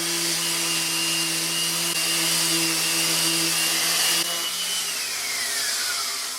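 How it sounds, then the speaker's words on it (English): A power sander works an antique wooden piano bench frame at 120 grit, giving a steady, loud motor whine with a constant drone that shifts pitch near the end and then eases off. "So it's had a full sand now at 120 grit"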